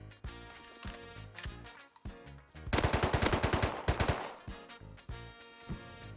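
Video game gunfire in a Rust-style survival match near a giant excavator and sulfur quarry, scattered single shots followed by a rapid automatic burst of close, sharp cracks, then more spaced shots.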